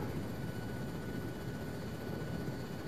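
A military helicopter in the game ARMA 3 drones on steadily, a loud continuous rotor and turbine roar filling the scene from close by without any change or talking.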